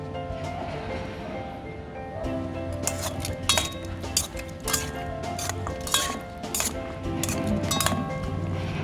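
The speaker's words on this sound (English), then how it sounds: "gonna toss that gently with the sauce" Food tossed gently with a ginger, soy and sesame sauce, with bright clinks and taps of utensils against a dish or bowl coming in irregular bursts over a low background hum, and no talking.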